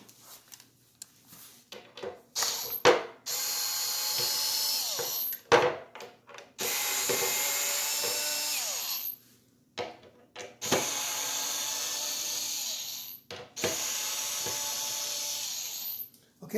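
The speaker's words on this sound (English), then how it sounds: "I have to unscrew these two" A cordless drill backs screws out of a kitchen cabinet door hinge in several short bursts of whirring, separated by quiet pauses and faint handling clicks, heard up close.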